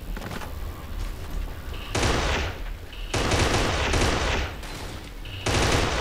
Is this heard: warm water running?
no